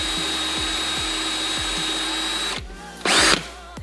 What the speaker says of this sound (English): Maybe I should have used a little bit bigger drill bit.